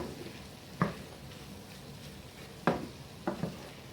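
Chicken pieces for a spicy steak are stirred in a hot pan, a soft sizzle running underneath while a spoon strikes and scrapes the pan in a few sharp, separate knocks.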